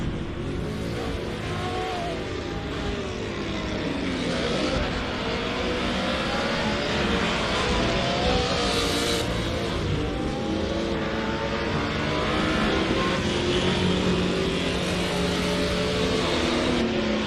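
GT4 race cars racing at Laguna Seca, with engines droning and revving continuously, rising and falling pitches as cars accelerate and shift, a dense layered motor roar throughout.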